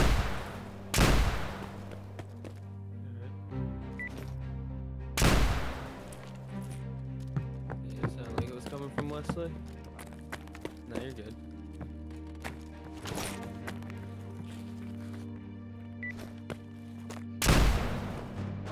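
Heavy explosive booms and gunfire ring out in the video game DayZ during a raid, with several big blasts spaced several seconds apart and scattered smaller shots and clatter between them, while players talk throughout.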